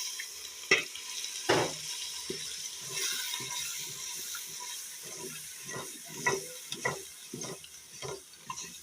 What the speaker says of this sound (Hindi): अब हम इसमें दूध डालकर भुनाई करेंगे।